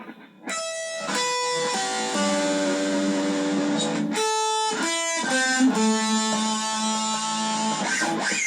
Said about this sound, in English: what we're doing there is you're hitting harmonics again